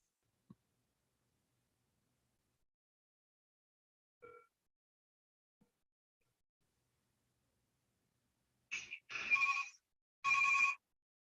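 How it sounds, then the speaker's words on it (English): An outgoing telephone call rings with two short bursts of ringback tone near the end, after long near-silence with a few faint clicks. "I'm going to give them a call back."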